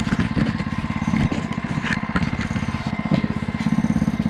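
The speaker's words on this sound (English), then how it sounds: "I could actually hear the clutch trying to engage. So the idle is like right on that cusp." A 105cc mini bike engine idling close by, loud and steady, with a fast even putter throughout and the clutch on the edge of engaging.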